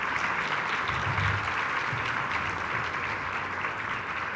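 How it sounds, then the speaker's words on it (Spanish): An audience at a women's human rights defenders award ceremony claps in a dense, steady round of applause that holds evenly throughout. "Un aplauso en nombre de ellos,"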